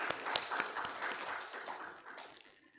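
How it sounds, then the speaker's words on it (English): A seminar audience breaks into a dense burst of applause, many hands clapping together, steady and then tapering off, heard from within the room. "So give applause as well"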